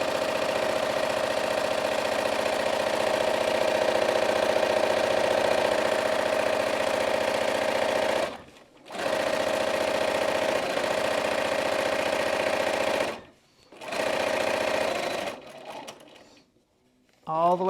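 A sewing machine back stitches fabric along a casing line in a long, steady mechanical whirr, stopping briefly twice and then halting near the end.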